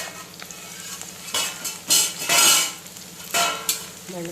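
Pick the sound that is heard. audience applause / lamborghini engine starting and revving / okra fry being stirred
okra fry being stirred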